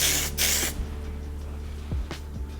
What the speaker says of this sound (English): It's actually a light hold hairspray